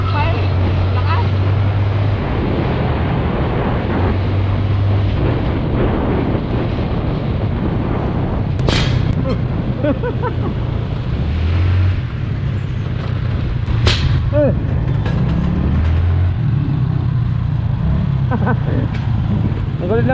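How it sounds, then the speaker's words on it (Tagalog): A touring motorcycle engine rumbles steadily under heavy wind noise and people talking. Two sharp backfire pops break through, several seconds apart. "Lakas mag-backfire."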